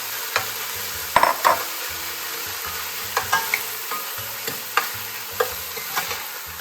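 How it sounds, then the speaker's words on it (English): Onions sauteing in hot oil for Persian fesenjoon, a steady frying sizzle with repeated clacks and scrapes of a spoon stirring the pan, close and fairly loud with no voices. "As soon as it heats up, I will add my onions, and we need to saute them until they are translucent and slightly"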